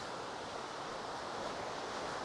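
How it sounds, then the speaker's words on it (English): A waterfall in Northern Ireland roars as a dense, unbroken wash of white noise, heard from nearby with no voices. "So the waterfall is right here behind these trees."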